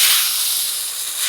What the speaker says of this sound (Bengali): লাউ পাতাগুলো দিয়ে দিচ্ছি, ওকে একটু কষিয়ে নিতে হবে